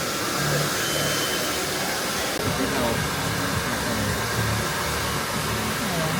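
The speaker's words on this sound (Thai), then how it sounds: "ตอนนี้ก็ทำการเป่าผมนะฮะ" Hair dryer blowing hair during a salon visit, a steady loud broadband whoosh that runs continuously throughout, with faint voices and background sounds beneath it.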